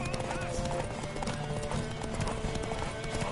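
Horse hooves clip-clop at a steady gallop in The Witcher 3 video game, a rapid close rhythm with game voices speaking over it.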